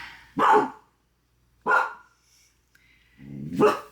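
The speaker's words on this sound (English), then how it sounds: "see what this dog's barking at" A dog barks three times at close range, loud and separated by pauses, with no talk over it.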